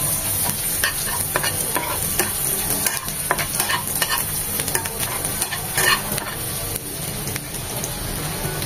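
Chopped garlic and onion sizzle in hot oil, a steady crackling fry broken by repeated scraping and stirring strokes close by.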